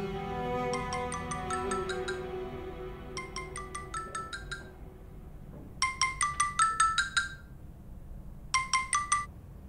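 A phone ringtone plays in a quiet room, a bright chiming melody repeated in several short bursts with gaps between them, clear and fairly close.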